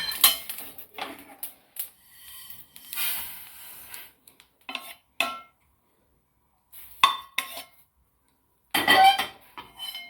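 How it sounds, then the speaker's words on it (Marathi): Sesame seeds dry-roast in a pan, giving scattered, irregular crackles and pops with clinks of a spoon against the metal, separated by brief quiet gaps. "हे बघा असा चटचट आवाज येतोय"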